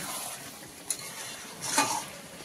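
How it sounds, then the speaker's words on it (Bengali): Browned mutton curry being moved into a pressure cooker in a home kitchen: soft scraping and stirring with a light sizzle, a small metallic clink, then a brief wet slide of meat, close and quiet. "মাংসটাকে এবারে প্রেসার কুকারের মধ্যে অ্যাড করবো"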